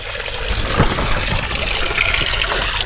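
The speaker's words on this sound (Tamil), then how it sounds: "இங்கே வரையும் தண்ணி வருது பாருங்கள்." Water flows steadily downhill on the Thavalagiri hill trek near Tiruvannamalai, a continuous loud trickling rush close by with no break.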